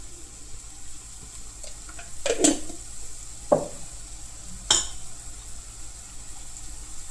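Moringa dal frying in a pan after salt and chili powder go in, a low steady sizzle under a few sharp clinks and scrapes of a spoon stirring against the pan, with no voices.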